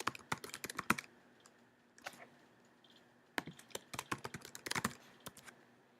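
Close, faint keyboard typing as an email address and password are entered on a computer, bursts of rapid clicks split by short pauses, with no talking.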